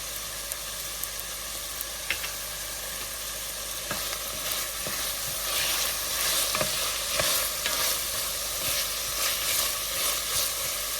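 Scallions fry in a pan while being stirred, producing a continuous sizzle with repeated scraping strokes and clicks from the utensil that grow slightly louder partway through, close up with no talk.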